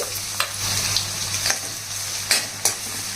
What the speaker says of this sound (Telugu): ఇవి మాడిపోకుండా బాగా దోరగా వేగేంత వరకు వేగించాలి